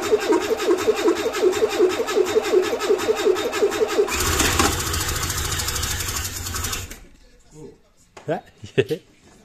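A Renault 4L engine makes its first start attempt after a rebuild. The starter cranks in a steady rhythmic churn, the motor briefly catches with a rough, louder roar, then cuts out, followed by laughing voices and short talk.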